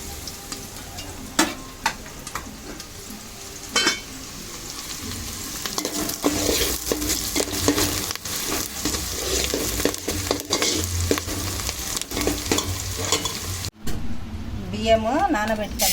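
Chicken pieces frying for chicken mandi biryani, an ongoing sizzle with sharp spatula clacks and scraping stirs, while someone talks over it.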